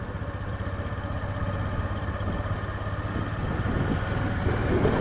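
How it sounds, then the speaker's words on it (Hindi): Motorcycle engine running steadily while riding in second gear, a continuous droning hum with wind noise that grows slightly louder toward the end, heard from the rider's position without speech. "अभी ये इंजन आवाज़ कर रहा है"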